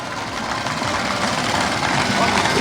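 A motorcycle engine runs loudly and steadily during a BSF stunt display at a passing out parade, a continuous buzzing drone with a public address announcer speaking over it.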